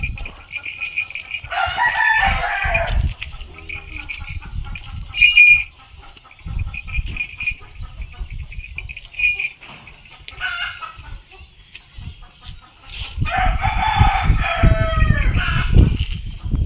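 A rooster crows twice, loud and near, once early and again near the end, with softer clucks between the crows under steady rural outdoor background noise, near a tethered bullock at a village shed.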